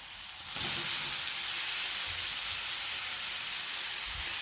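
Ridge gourd drops into roasted masala in a hot oiled pan, bursting into a loud, steady sizzle that continues with occasional soft stirring knocks.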